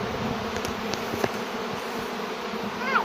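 A soft, steady insect buzz of old black honeybees on hive frames during autumn frame drying hums throughout, with occasional faint clicks and a brief rising whine near the end.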